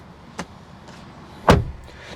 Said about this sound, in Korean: 뒷문을 닫는 이 느낌과 감성이